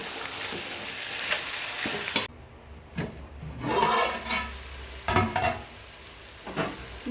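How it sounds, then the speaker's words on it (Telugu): Marinated chicken tipped into a pan of hot oil with cloves, cardamom, cinnamon and bay leaf, sizzling loudly, then settling into steady frying broken by several scraping stirs of a spoon against the pan. "ఇప్పుడు ఈ మ్యారినేట్ చేసుకున్న చికెన్ ఇందులో వేసుకుంటున్నాను."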